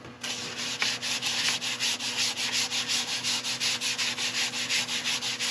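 Abrasive paste being rubbed onto a spinning grass tree root turning on a lathe, a close, rhythmic rasping swish that pulses steadily at a quick even pace over a constant motor hum.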